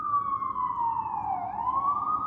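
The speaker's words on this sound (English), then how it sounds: "Is that an ambulance?" An ambulance siren wails through a single long, steady falling and rising sweep, moderately distant and fairly faint, with no voices over it.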